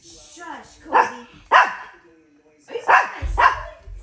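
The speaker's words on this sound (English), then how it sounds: "Say stop barking." Several chihuahuas bark at night, sharp barks in two bursts of about two each, fairly close, with a low rumble under the last pair.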